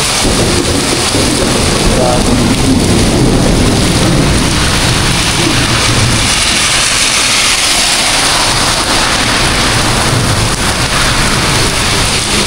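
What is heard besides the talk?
heavy rain and thunder under a bridge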